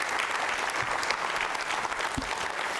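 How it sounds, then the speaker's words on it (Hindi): Continuous crowd applause at a Jain Social Group regional quiz show, even and sustained, heard from a moderate distance with a low thump near the end. "आप जोरदार तालियां बजाइए।"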